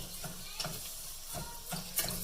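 Rice being stirred as it browns in a pan while making chiles rellenos, a soft scraping stir repeating in gentle strokes over a low steady sizzle, close and alone.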